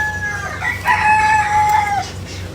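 A rooster crows once in a rural Philippine province, a long clear call rising and holding near the listener over a low steady background hum, with no talk.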